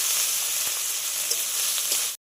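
Spice masala with turmeric and salt frying in a pan, a dense, bright, steady sizzle close up that cuts off abruptly near the end.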